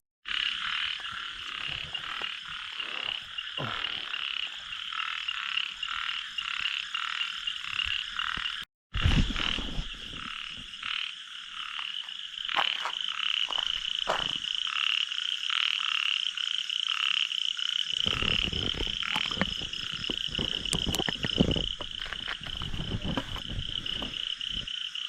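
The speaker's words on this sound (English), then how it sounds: "check out this frog" Continuous rapid croaking from a tiny frog in Challakere, India, loud and close, persisting for a long stretch, briefly cut off then resuming with a chorus of insects.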